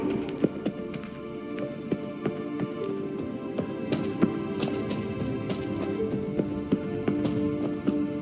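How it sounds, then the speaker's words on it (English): Hooves of Kelpie, a horse in the video game The Witcher 3, clopping at a steady brisk trot, with regular sharp hoof strikes over game music and ambience. "Kelpie. Another horse. Almost exactly like the last one."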